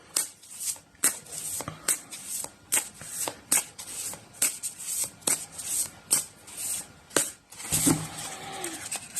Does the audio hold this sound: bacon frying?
no